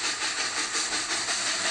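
A machine producing steam train sound effects gives off a loud, continuous broadband hiss of steam that holds steady throughout and cuts off abruptly at the end, with no voices.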